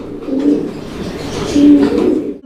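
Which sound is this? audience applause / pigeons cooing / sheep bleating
pigeons cooing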